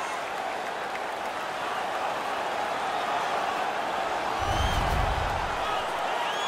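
Arena crowd noise during a hockey fight in NHL 17, a steady dense roar of spectators that swells briefly with a low thump near the end, with faint commentary underneath.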